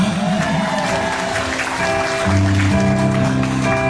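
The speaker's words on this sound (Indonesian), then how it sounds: "Tepuk tangannya mana?" Audience applause at a Batak comedy show, steady broadband clapping throughout with a musical tone and sustained notes running underneath, loud and close.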